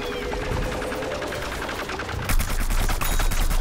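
Rapid gunfire from Plants vs. Zombies Garden Warfare rattles on without a break, its dense automatic bursts mixed with game effects. Near the end it grows louder and more layered.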